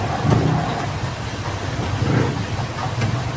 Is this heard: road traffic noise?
yes